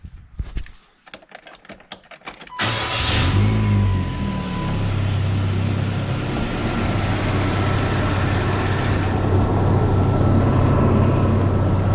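A few clicks and clatters, then a car engine fitted with a homemade cold air intake starts up and settles into a steady, rumbling idle close by, with a mild rise in revs.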